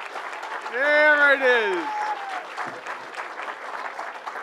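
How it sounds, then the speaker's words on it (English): Applause from an audience at a New York governor's event announcing after-school program funding, rising loudly under a child's cheering and speech, then continuing as steady clapping in the background. "Let's give Zaira a big round of applause."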